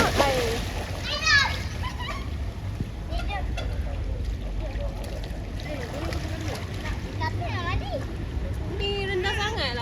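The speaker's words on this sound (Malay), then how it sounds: "Kakak ya berenang yang ke belakang tu." A child swimming backstroke in a pool, splashing water in a steady churn, with children's voices and chatter running over the splashes throughout.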